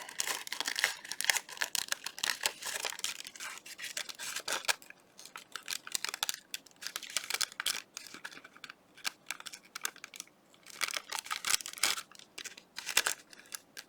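Scissors snip and trim paper to size for a handmade collage valentine, a steady run of close, crisp cutting strokes with brief pauses, no talking.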